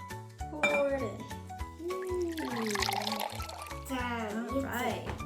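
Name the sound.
hot water poured into a play dough mixture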